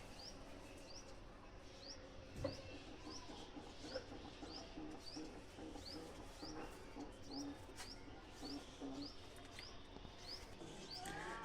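Pigeons in a home pigeon house coo softly and repeatedly, with faint chirps and a low murmur of background voices in a quiet enclosure.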